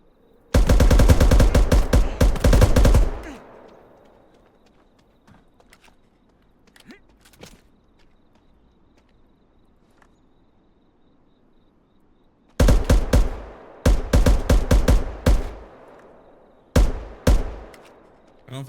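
Gunfire in the video game The Day Before: a loud automatic burst at the start, a long near-silent stretch with a few faint taps, then several more rapid bursts of shots near the end.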